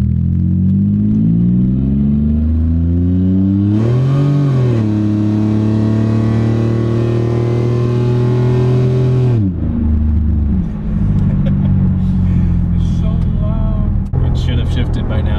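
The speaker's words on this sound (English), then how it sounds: "let's give it a little more of an acceleration" A 2002 Pontiac Grand Prix GTP engine revs and accelerates hard, rising in pitch, then drops off after a gear change and keeps rumbling.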